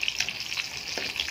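Garlic sizzles in hot oil in a pan while pansit canton is being cooked, a steady close crackling hiss with a few brief louder pops and no voices.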